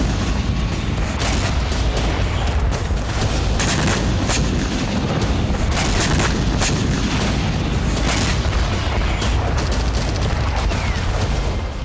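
Loud, relentless rumbling from explosions and bursts of fire during missile and drone strikes in Yevpatoria, Crimea, at night, blending into a constant roar with no quiet gaps.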